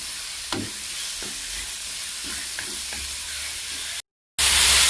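Pork stir-fries in a pot and gives off its own juices, with a steady close sizzle and a few stirring knocks, then a brief gap of silence and a harsher, louder burst of hiss.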